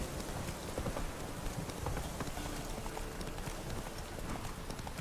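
Roach the horse gallops across open ground in The Witcher 3, a steady stream of rapid hoofbeats blended with a dense, hissing wash of ambient noise, continuous and moderately loud throughout.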